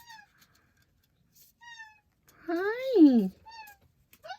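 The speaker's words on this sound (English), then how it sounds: "This is my other kitty cat." A big fluffy pet cat gives several short, close chirpy meows and one longer, louder drawn-out meow in the middle, with a person briefly speaking.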